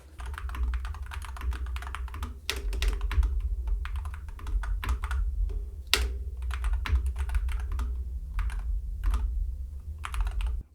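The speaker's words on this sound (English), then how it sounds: "And let's give it a typing test." Typing on a Monsgeek mechanical keyboard produces close, crisp keystroke clicks in quick irregular bursts with a few heavier thocks, heard alone.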